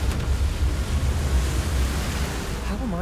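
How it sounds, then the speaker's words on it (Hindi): Water rushes in and floods a room in Hogwarts Legacy, a dense, steady roar that fills the space throughout, with a faint voice briefly surfacing near the end. "पानी भरने लगा यहाँ पे शेड।"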